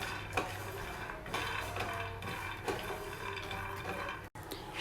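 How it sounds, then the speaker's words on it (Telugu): Groundnuts dry roasting in a pan and being stirred, giving steady scraping and light rattling clatter with soft periodic knocks, fairly quiet and without talk. "ఇలా మధ్య మధ్యలో మిక్స్ చేసుకుంటూ ఫ్రై చేసుకోవాలండి"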